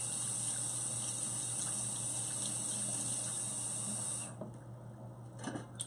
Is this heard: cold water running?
yes